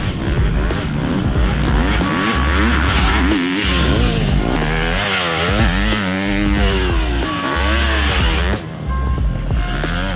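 Supercross race motorcycle engine revving hard on a dirt track, loud and close, with rising and falling throttle sweeps that run continuously with brief dips between pulls.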